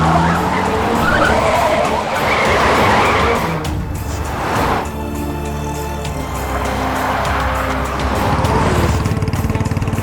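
A car tears away fast with tires skidding and squealing, a loud continuous screech over a revving engine that dips briefly midway and then surges again, close and dominating throughout.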